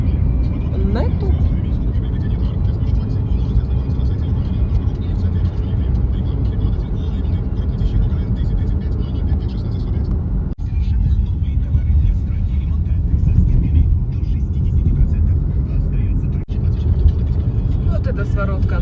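A car cruises along the Ukhta–Syktyvkar highway in the Komi Republic in April, a steady loud road and engine rumble heard from inside the cabin, with a couple of brief knocks.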